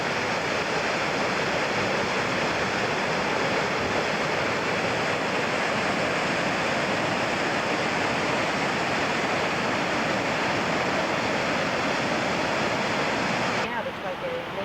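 Water falls and rushes in a steady, loud, broadband roar that stays constant for the whole stretch and cuts off abruptly near the end.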